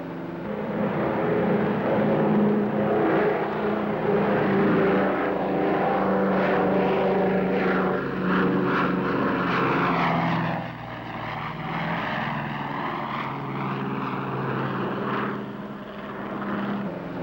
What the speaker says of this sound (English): Big as this Super Connie is, she wants to fly right on off of there.